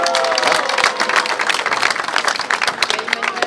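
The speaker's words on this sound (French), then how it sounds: "on les applaudit aussi très fort" An outdoor crowd claps steadily at the opening ceremony of the golden onion festival in Mulhouse, dense, loud applause filling the whole stretch.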